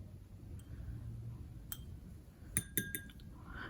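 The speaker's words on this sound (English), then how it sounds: "We're going to do 2 large scoops of zinc oxide" Zinc oxide powder is scooped out for homemade liquid lipstick: a few soft, close metallic clinks and taps of the scoop against a container, spaced out over a quiet, faint background.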